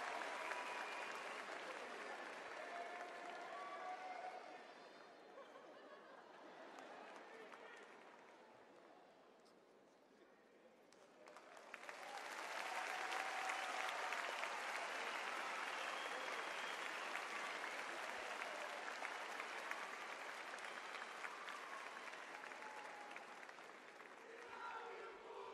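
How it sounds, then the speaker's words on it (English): A basketball arena crowd at a Ryukyu Golden Kings game cheers and chants for Jack Cooley, a loud roaring wash that dips briefly midway and then surges back even louder and sustained. "We just heard that from the crowd."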